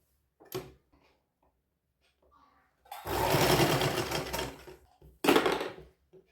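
A sewing machine stitches fabric for a small girl's sharara outfit, whirring steadily for about two seconds, then giving one more short burst, with a few faint handling clicks before it starts.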